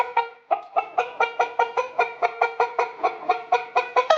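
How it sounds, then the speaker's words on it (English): A hen clucks close and clear in a quick, steady series of about fifteen short, evenly spaced calls, with no other sounds or voices. "This is a hen."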